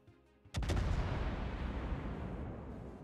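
A warship's naval guns fire in World of Warships, a sudden loud booming salvo with a double crack that rolls into a long, heavy rumbling tail, with no talk.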